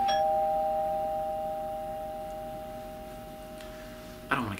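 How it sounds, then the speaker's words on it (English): Doorbell chime from a Super Nintendo video game, sounding as steady sustained electronic tones through the whole stretch, moderately loud and alone, with a brief louder burst near the end. "I don't want to get the doorbell."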